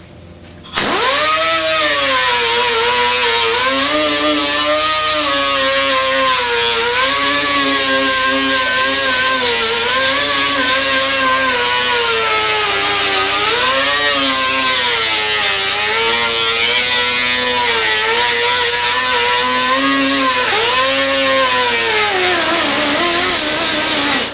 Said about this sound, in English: Keep grinding this weld until it's almost smooth, but just be careful you don't warp the metal